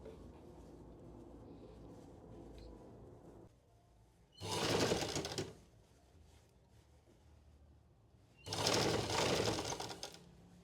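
Sewing machine stitching a blouse sleeve in a tailoring class, running in two loud bursts of about a second each, separated by quieter handling and rustling of fabric.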